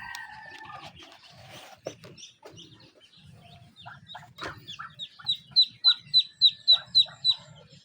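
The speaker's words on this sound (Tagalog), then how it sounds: "Ay, may mga manok." Hens at a backyard chicken nest cluck and murmur, then one bursts into a rapid run of loud, evenly spaced squawks near the end, with softer clucking and faint background sounds before it.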